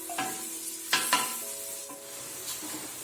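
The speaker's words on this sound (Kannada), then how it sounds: "ಈರುಳ್ಳಿ ಕೆಂಪಾಗಿ ಫ್ರೈ ಆಗಬೇಕು." Long-sliced onions fry in oil in a pan for mutton biryani, a steady sizzle broken by a few louder scraping stirs near the start and middle, close and moderately loud with no talking.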